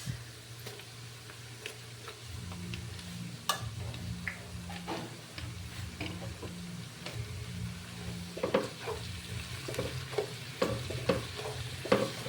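Chicken, potato and mushroom sauté steadily in a buttered pan with fish sauce, giving a continuous close sizzle with scattered ticks and stirring clatter throughout.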